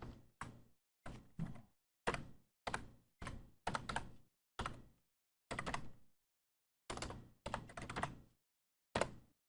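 Bursts of typing on a computer keyboard while filling in probate form fields, clear close keystroke clusters separated by short silences, no talking.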